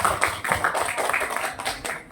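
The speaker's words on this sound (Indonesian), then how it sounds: "Oke, tepuk tangan untuk kita semua." A group claps together during a teacher training session, a brief, dense patter of overlapping claps at moderate volume in a room.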